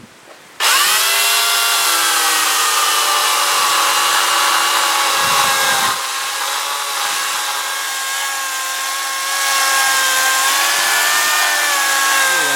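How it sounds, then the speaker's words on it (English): A chainsaw starts up and runs hard at close range, its engine whining steadily with slight shifts in pitch as it carves into a tree stump. "starting with the chainsaw and then finishing off with the carving tools"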